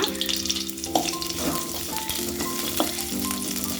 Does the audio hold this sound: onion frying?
yes